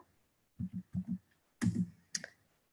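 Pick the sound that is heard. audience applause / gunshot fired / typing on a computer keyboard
typing on a computer keyboard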